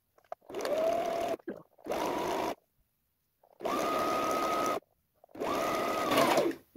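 Sewing machine running in four bursts as it stitches binding onto a fabric face mask, a steady mechanical whir that stops and restarts with short silent pauses between runs, close and alone with no talking.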